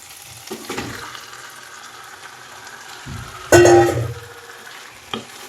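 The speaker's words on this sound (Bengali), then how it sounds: "দিয়ে ভালো করে চিকেনটাকে কষিয়ে নেব।" Salted chicken hits a pan of cooked-down spice masala and oil, with a sudden loud sizzle and stirring scrapes that start midway, surrounded by quieter kitchen clatter.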